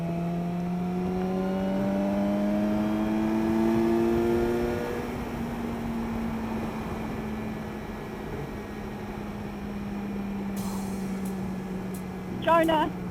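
A car engine rises in pitch as it accelerates to overtake, a steady drone with climbing harmonics that then settles into a level hum, with people chatting over it inside the cabin.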